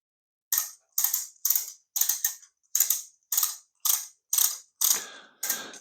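A 3D-printed print-in-place clicky mechanism snaps through about ten sharp, crisp clicks in a fairly even rhythm, close and alone in an otherwise silent space.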